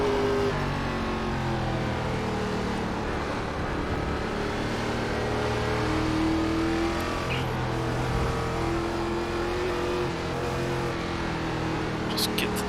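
Race car engine roaring steadily at high revs in iRacing's NASCAR ARCA Series at the Charlotte Roval, the pitch rising and falling through shifts across the whole stretch, with someone talking over it.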